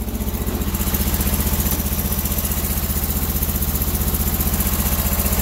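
A Sears Suburban loader's 20HP V-twin engine runs unevenly on a cold winter start, not yet firing on its second cylinder, giving a loud, close, steady low putter with a rhythmic pulsing throb and no talking.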